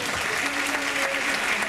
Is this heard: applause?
yes